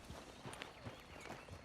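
Horse hooves clop at a steady walking rhythm while riding in the video game Red Dead Online, faint and soft against a quiet background.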